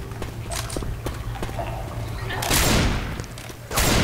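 Shotgun blasts from Left 4 Dead 2 boom out in a busy firefight, two big wide bursts near the end over a rapid stream of clattering shots and impacts, loud and close with no voices.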